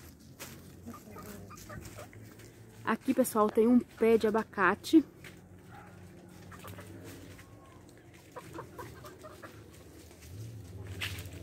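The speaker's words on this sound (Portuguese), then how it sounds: "Minhas galinhas tá tudo me bicando." Backyard chickens cluck and peck around a person in a home garden with avocado and mango trees, with short bursts of fowl calls close by, mostly mixed in with a woman's speech.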